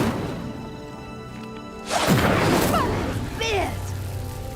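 The Incendio fire spell in Hogwarts Legacy sets a pyre ablaze with a sudden booming whoosh of flames, followed by a roaring, crackling burn and a descending swoop as the pyre sinks, all loud and close.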